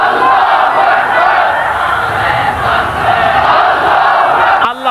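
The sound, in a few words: crowd chanting takbir slogan Allahu Akbar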